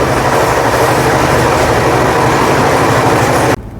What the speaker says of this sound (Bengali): এখন প্রায় ম্যাক্সিমাম গতিবেগে ছুটছে ট্রেনটা